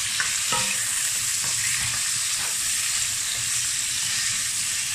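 Shallots sizzle steadily in a small amount of oil in a pan, giving a loud, continuous crackling fry with faint stirring scrapes and no talking.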